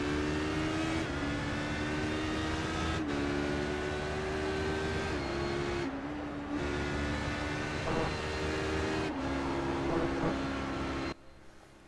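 HPD prototype race car engine in GT racing traffic, a loud steady drone with several distinct shifts and lifts in pitch, then the engine note drops away sharply near the end as the car slows.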